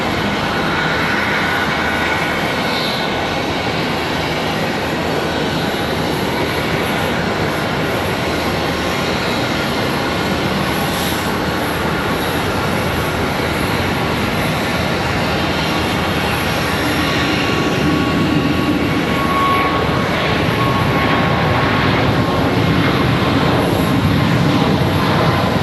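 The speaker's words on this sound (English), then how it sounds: "The American 737 starts to get a move on." An American Airlines Boeing 737 bound for Pittsburgh begins its takeoff roll at Charlotte Douglas, a loud, sustained engine roar that holds steady and swells gradually across the whole stretch.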